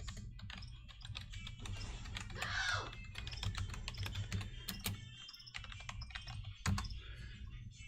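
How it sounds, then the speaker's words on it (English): Fast, uneven typing on a computer keyboard, close and fairly quiet, with clusters of key clicks and a few sharper presses over a low background hum. "Actually, I can type it out here."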